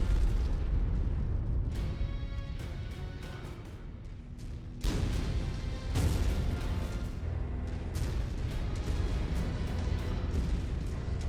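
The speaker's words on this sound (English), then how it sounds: "He was somewhere in that explosion." Explosion in the video game MechWarrior 5: Mercenaries, rumbling booms and bursts layered over steady game noise, with a sharper blast partway through and further rolling impacts after it.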